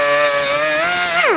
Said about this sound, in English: We're just going to take a die grinder and just grind those areas down.